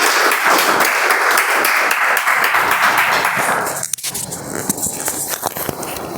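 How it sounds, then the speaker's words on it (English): Steady applause from a small audience at a Toastmasters club meeting, dense and even for about four seconds before cutting off abruptly, followed by quieter room noise and faint scattered sounds. "A round of applause for Toastmaster Karthik"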